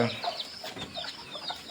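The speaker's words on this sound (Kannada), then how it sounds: "ಕೋಳಿ" Native country chickens cluck repeatedly in a short, busy run of calls, fairly close and moderately loud, with faint farmyard background and no clear talk.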